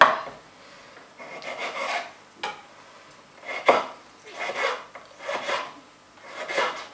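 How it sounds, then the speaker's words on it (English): A kitchen knife chops supermarket tomatoes finely on a board, with soft scraping strokes and gentle taps in an irregular rhythm, close and fairly quiet. "I'm going to chop them up quite finely."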